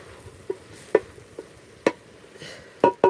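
Cabbage fry stirred in a pan, a few scattered scraping and clinking knocks of the utensil against the pan over a faint sizzle, close and intermittent.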